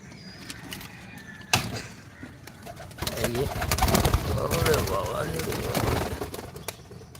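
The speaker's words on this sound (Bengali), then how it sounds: "এখানে আরও কিছু কবুতর আছে" Fantail pigeons coo in a loft, with soft repeated throaty coos close by and some wing flutters and scuffling as a person talks over them.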